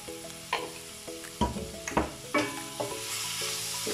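Mango cooking in a pan with turmeric and salt, a continuous close sizzle broken by repeated stirring clatters and scrapes, with no voices.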